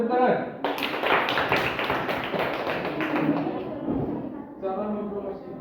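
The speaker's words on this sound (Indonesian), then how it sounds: "Kita boleh tepuk tangan." A group of people claps hands in a dense burst of applause that starts suddenly and carries on for several seconds, with a voice talking before and after.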